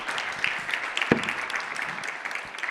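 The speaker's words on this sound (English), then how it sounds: "Big applause for everyone." Applause from the audience closing a sustainability science roundtable: a modest, steady patter of clapping that stays fairly even throughout, with one sharper thump partway through.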